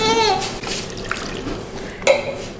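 Water is poured into empanada dough for a Colombian cheese and meat recipe, a continuous splashing trickle with a couple of brighter splashes, fairly close and loud with no talk.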